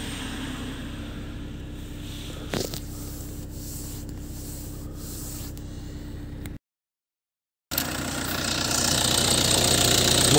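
A 2018 Citroën C4 Picasso's 2.0 diesel engine with automatic gearbox idles steadily with a faint rattling knock, a brief gap in the middle, then the running engine returns slightly louder.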